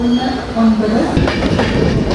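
The Tirunelveli–Jamnagar Express, leaving Tirur in Kerala, rumbles along steadily with a broad low roar and faint rhythmic clatter of wheels on the rails.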